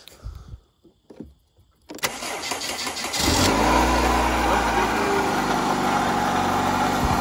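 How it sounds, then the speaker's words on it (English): A Saturn car's engine cranks and catches after a jump start in a parking lot, quiet rustling first, then a sharp start at about two seconds settling into a loud, steady idle that runs to the end. "Hey, sir, do you mind starting my car?"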